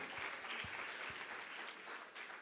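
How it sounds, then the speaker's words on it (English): Dense, steady applause from a crowd at a TechHR fireside chat fills the whole stretch, with no voices over it. "So big round of applause once again."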